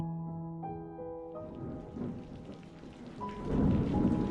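Heavy rain pours steadily while thunder rumbles and builds to a loud, close crash near the end, with a low tonal drone fading out at the start.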